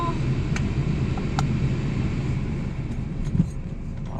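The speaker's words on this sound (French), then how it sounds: "On va démarrer tranquillement pour sortir de la place." A car in a driving lesson pulls gently out of a parking space, its engine a low steady rumble heard from inside the cabin, with a few faint clicks and brief voices.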